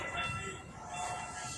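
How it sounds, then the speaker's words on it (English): A Valley Metro light rail train rumbles past at a station platform, a steady broad whoosh and rolling rail noise holding close and fairly loud for the whole stretch, with no talking. "the train just went by"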